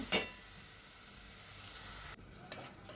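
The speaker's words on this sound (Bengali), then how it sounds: "সবজিগুলো আমি ভালো করে রান্না করব" Sizzling sound of vegetables cooking with fried spices in a pan: a steady bright hiss runs for about two seconds, then cuts off abruptly, leaving a few faint clinks and stirs.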